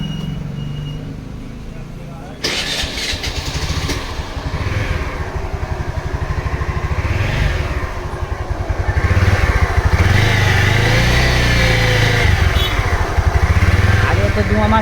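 A fully serviced TVS Wego 110cc scooter idles nearby, then its engine picks up and runs louder and steadier toward the end, a continuous close mechanical hum with slight clatter and some talk alongside.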